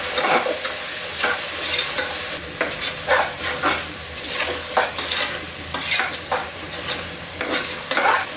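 Ground masala paste sizzles in oil in a cooking pot for mutton biryani, while a spoon scrapes and stirs it in repeated, rhythmic strokes close by, with no talking.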